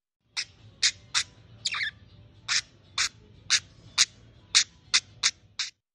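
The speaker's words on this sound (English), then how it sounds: "Squawking is loud, sharp, and honestly, a little jarring." A budgie gives a series of about eleven sharp, loud squawks at fairly even intervals, close by, with quiet between each call.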